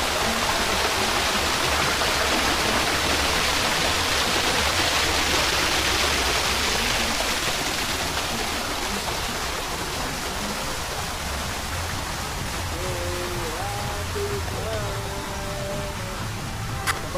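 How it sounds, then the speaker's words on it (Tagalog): A garden water fountain splashes with a loud, constant rushing wash that holds evenly from start to finish. A few faint tonal chirps come in near the end. "Ito pa rin yung fountain nila."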